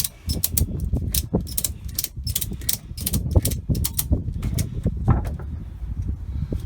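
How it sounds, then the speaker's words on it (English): A ratchet strap on a Burstner Lyseo TD 680 G camper van is cranked tight, producing a rapid series of sharp clicking ratchet strokes in bursts, close and fairly loud. "So now that's ratcheted in."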